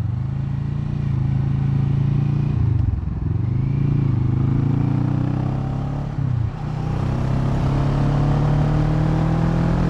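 A Kawasaki Vulcan S motorcycle engine drones steadily while riding, a low strained hum with two brief dips as the throttle shifts, wind rushing over it, no talk.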